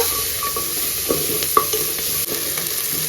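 Tomato and onion frying in a pan of oil for a moong dal curry, an even crackling sizzle with several spoon taps and scraping stirs, heard alone without speech.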